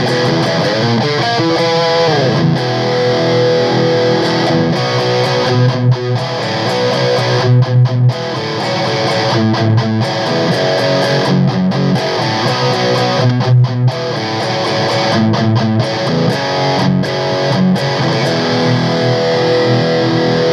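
Electric guitar with heavy distortion, boosted by an EMG Afterburner into a Mesa Tremoverb JP-2C Rectifier and a Marshall 1960B cabinet with V30 and G12T-75 speakers, playing dense, loud riffs with short chopped pauses throughout, no voices.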